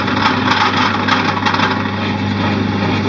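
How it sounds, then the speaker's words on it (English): A drill bores slowly into metal with cutting fluid during a tiny house trailer build, producing a steady, loud mechanical drone with a low hum and faint grinding, close up, without talk. "So I get the drill going again."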